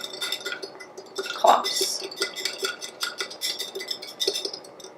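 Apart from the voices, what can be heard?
whisking coffee mixture with water in a mason jar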